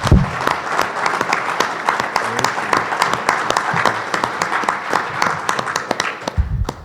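An audience applauds Judith at a JFK assassination conference, steady sustained clapping with sharp individual claps standing out, fairly close and loud, ending abruptly.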